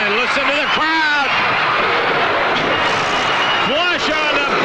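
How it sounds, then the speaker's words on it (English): A wrestling arena crowd roars continuously and loudly throughout, with shouting voices and a commentator talking over the din. "and listen to the crowd."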